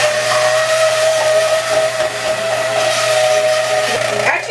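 An immersion blender whirs steadily through thick cherry tomato barbecue sauce, a loud, continuous motor whine with hiss that holds throughout and rises slightly near the end.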